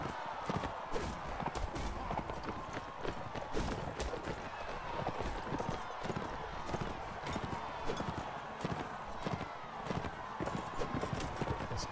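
Horse hooves gallop in the medieval combat game Mount&Blade Warband, a fast, continuous drumming of clip-clop beats in a desert setting, steady and close throughout the clip.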